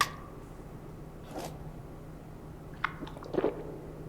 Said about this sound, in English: Slurp noise.